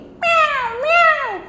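A cat meows twice in a children's story, a clear, close, rising-and-falling pair of cries with no other sound around them.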